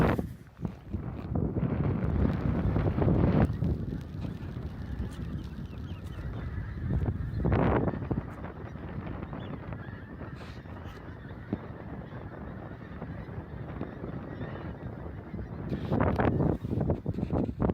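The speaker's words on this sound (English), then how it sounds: "Some of the swans." Swans honk in scattered bursts across a windy outdoor scene on the Norfolk coast, a few loud calls standing out over buffeting wind noise.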